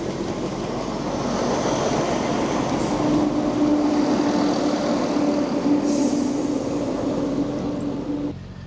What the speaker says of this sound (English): We're going to see a train coming past.